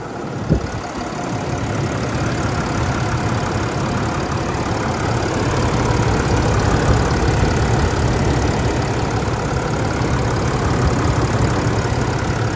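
A Nissan Navara D40 pickup with the V9X diesel engine idles steadily just after start-up, a continuous low rumble at close range with no talk over it.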